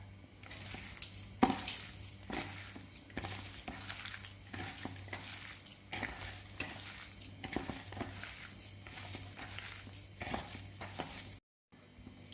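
Semolina and potato batter mixed with curd and salt in a bowl, a quiet run of repeated soft stirring and scraping strokes with occasional utensil clinks against the bowl, no talking.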